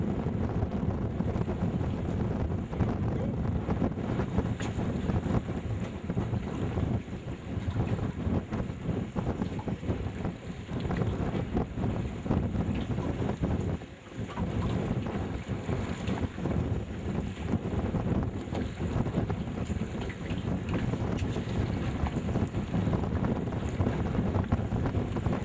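Strong wind buffets a fishing boat out on the water, a steady roaring gust with buffeting against the microphone and a brief lull partway through, no voices.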